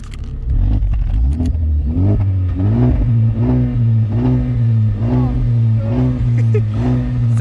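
A fully stock turbocharged Honda Civic Type R FK2R engine revs repeatedly, loud and close, each blip rising and falling in a regular rhythm, with faint voices in the background.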